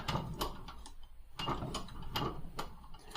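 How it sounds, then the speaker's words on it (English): A bearing is pressed out of a motorcycle shift lever part with a thin deep socket clamped between aluminum vise jaws. It gives a series of close, sharp mechanical clicks and creaks in an uneven rhythm, with no talking. "this skinny little deep socket is the perfect size to push the bearing out"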